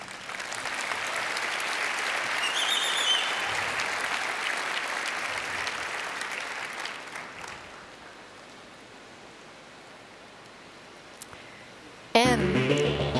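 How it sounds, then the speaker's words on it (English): A conference audience claps together in a sustained round of applause that swells, then thins and fades over several seconds before a sudden burst of other sound at the end. "Let's give them an applause for their boldness."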